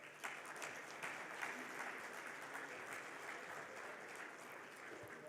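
Steady applause from an audience welcoming a speaker at a financial markets session, a dense, even wash of clapping at moderate volume that holds without pause.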